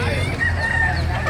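A rooster crows loudly and close by in a short burst, with a little background murmur.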